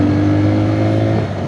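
A 2026 TVS Raider 125cc motorcycle in power mode accelerates on a highway, its engine giving a steady loud drone with a firm low hum throughout, close and continuous.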